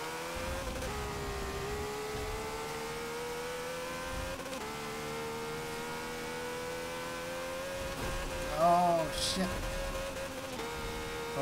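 Classic race cars rev and accelerate in Forza 7 during an open-lobby race start, with a steady engine drone, rising tones and a short burst of higher-pitched revving near the end.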